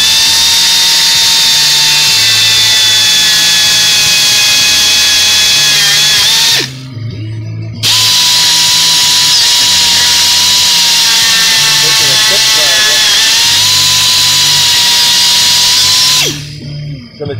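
A tip grinder notching a metal GPS lock box, loud close high-pitched whining in two long bursts of several seconds each with pitch dips under load and a brief pause between, with a voice speaking underneath.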